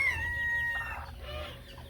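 A hen clucks nearby in short, low bursts, with faint bird calls and farmyard ambience around it.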